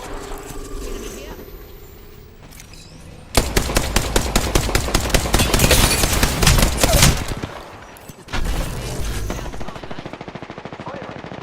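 Rapid automatic gunfire in the video game Apex Legends during a ranked match, sustained bursts of fast shots with brief pauses, loud and close, with a player talking over the action.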